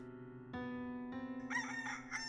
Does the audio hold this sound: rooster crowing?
yes